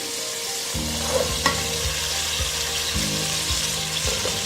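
Tomato paste stirred into a frying pulao masala in a pan, a steady sizzle with repeated scraping strokes of a spoon at a regular rhythm, close and alone without talk.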